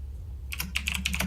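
Computer keyboard typing during an online game session: a quick, close run of clicky keystrokes in an uneven rhythm that starts abruptly after a quiet moment, with no voices over it.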